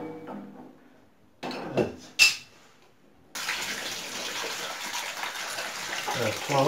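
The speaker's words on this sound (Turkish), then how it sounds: "şu an petekteki suyu boşaltıyoruz" Water draining from a heating radiator with its inlet fitting removed, starting with a couple of short splashing bursts, then settling into a steady gushing pour onto the floor.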